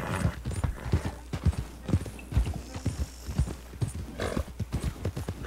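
Horse hooves clip-clopping at a steady riding gait across pasture in the video game Red Dead Redemption 2, a Kentucky Saddler or American Standardbred, with rhythmic close thuds and an occasional faint whinny.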